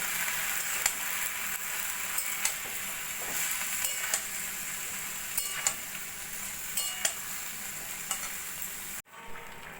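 Bottle gourd greens being stirred and fried with spices in a pan, a steady close sizzle punctuated by regular clicks and taps of the spatula, ending abruptly.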